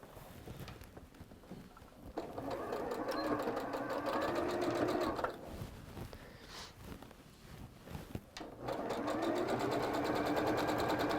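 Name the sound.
sewing machine straight stitching fabric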